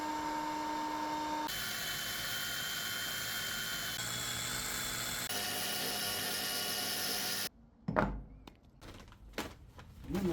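A heat gun blows hot air over door hinges to loosen them, making a steady whirring blower drone that shifts pitch a few times, then it cuts off and irregular knocks and clatter follow.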